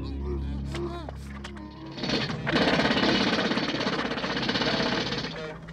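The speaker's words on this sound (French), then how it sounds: "dont les marteaux-piqueurs vont dégager le corps" Jackhammers pound loudly in rapid, continuous bursts, breaking concrete, kicking in after a brief stretch of voices and carrying on for several seconds, in a New York street scene from the film Maniac Cop.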